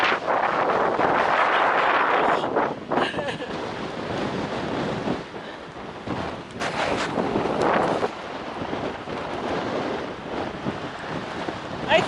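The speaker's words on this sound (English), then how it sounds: "It's really, really windy," Strong gusting wind at Carson Pass buffets the microphone in loud, rushing bursts that rise and fall, with no voices heard.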